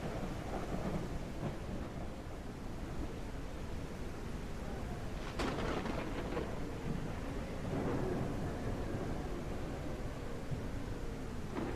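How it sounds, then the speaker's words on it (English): Heavy rain pours steadily in the video game SurrounDead, with thunder rumbling and cracking partway through over the constant downpour; no one speaks. "It just keeps raining. And not just rain, it's going crazy."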